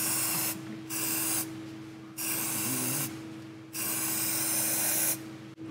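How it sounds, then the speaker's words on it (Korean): Aerosol can spraying leak-detection developer onto a BMW F07 530d GT engine in short hissing bursts, about four sprays with brief pauses, steady engine-bay hum underneath, close and fairly quiet. "현상제를 얇고 그렇게 뿌린다"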